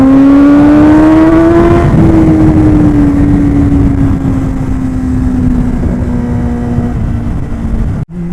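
A Kawasaki ZX-10R sportbike engine screams at high revs, a loud sustained whine that climbs then slowly drops in pitch over several seconds, heavy wind roar underneath, cutting off abruptly near the end.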